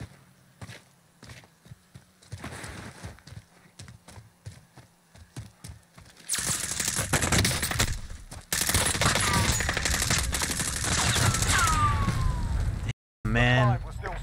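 Gunfire in the Warzone video game: scattered sharp shots and bursts early on, then sustained loud fusillades and clatter, with a player talking over the action.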